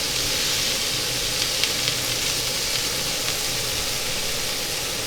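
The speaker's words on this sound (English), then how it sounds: "Cook that beef and get it nice and crusty." Beef patties sear in a hot pan with a loud, steady, unbroken sizzle that stays close and constant throughout, with no voices over it.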